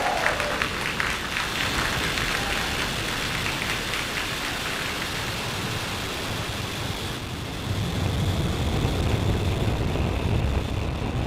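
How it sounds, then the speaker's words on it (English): A SpaceX Falcon 9 rocket lifts off carrying Starlink satellites, a dense, crackling roar that fills the whole clip without a break and grows slightly heavier toward the end. "Ignition and liftoff of Starlink"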